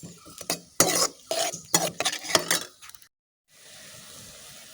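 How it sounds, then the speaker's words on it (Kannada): Capsicum and jackfruit pieces stirred and sautéed in oil in a pan, a run of close, loud scraping strokes with a soft sizzle underneath, then a brief silence before a quiet hiss resumes. "ಇವಾಗ ಇದನ್ನೆಲ್ಲ ನಾವು ಚೆನ್ನಾಗಿ ಎಣ್ಣೆಯಲ್ಲಿ ಬಾಡಿಸಿಕೊಳ್ಳಬೇಕು."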